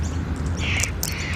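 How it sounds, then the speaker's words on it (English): A wild long-billed corella parrot gives a couple of short, harsh squawking calls at close range over a low background rumble. "That was a long-billed corella."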